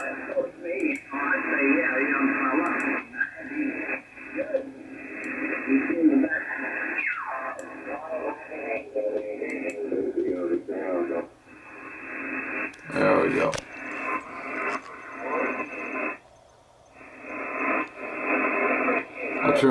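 Radio signals received around 80 MHz on an SDR-1 receiver running HDSDR, band-limited crackly voice transmissions over steady static, fading and returning in waves, fairly loud.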